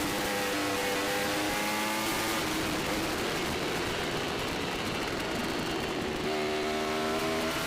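Formula Pacific racing motorcycles scream past in a tight pack of three during a race, a loud continuous engine roar with rising and falling gear-change whines and no speech.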